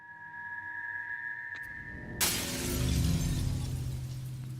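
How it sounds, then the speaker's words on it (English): A maze slab shatters in the puzzle game Lorelei and the Laser Eyes: a steady tonal drone cuts off into one sudden loud glassy crash, followed by a long crumbling, ringing decay. "That shatters the maze."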